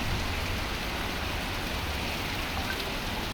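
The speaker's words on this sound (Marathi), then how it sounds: "दुपारनंतर जोरदार पावसाला सुरुवात झालेली आहे" Heavy monsoon rain pouring steadily in Navi Mumbai, a dense, even hiss of water hitting surfaces with no break in intensity.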